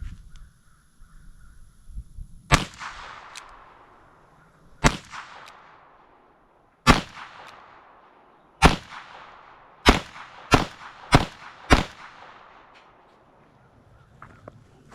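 A Smith & Wesson 648-2 .22 Magnum revolver fires CCI ammunition: about eight sharp, loud cracks, each with a short ringing tail. The first few shots are spaced a couple of seconds apart, then the last ones come in a quicker string.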